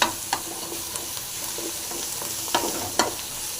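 Chopped onions fry in a pan for a Tamil bottle gourd stir-fry, a steady broadband sizzle with a few sharp spatula scrapes and clicks against the pan, close and alone without talk.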